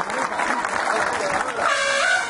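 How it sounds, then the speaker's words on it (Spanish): A crowd claps at a school Mother's Day celebration, a dense patter of applause throughout with a voice or two and brief tonal cheers rising near the end. "si me la regalan, un aplauso, por favor, señoras y señores"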